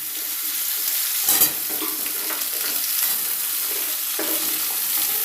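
Vegetables are tipped into hot oil and stirred, making a loud continuous sizzle with scraping spoon strokes and a sharper burst as they go in.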